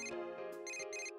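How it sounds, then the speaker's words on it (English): A cell phone rings in Persona 4 Golden with a bright, electronic ringtone melody, a few clear repeated tonal phrases heard alone and up close. "Naoto's cell phone is ringing."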